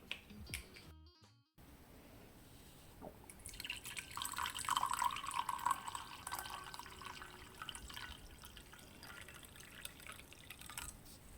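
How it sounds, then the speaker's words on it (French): Tooth brushing at a bathroom sink with the tap running, a faint close stream of water with drips and clicks that swells partway through, no talking. "j'ai failli oublier de me laver les dents"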